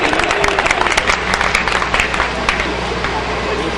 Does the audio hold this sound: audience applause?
yes